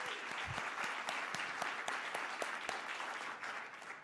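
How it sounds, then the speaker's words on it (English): Steady applause from a ceremony audience, a dense continuous wash of hand claps with a few sharper individual claps standing out, filling the room for several seconds and easing off slightly at the end. "Hand clap for all the students who are here today."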